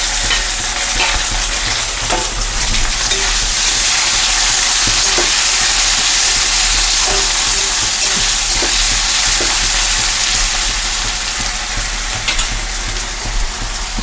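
Curry leaves, garlic, ginger and tomato frying for sambar, a steady close sizzle with stirring scrapes throughout, no talking.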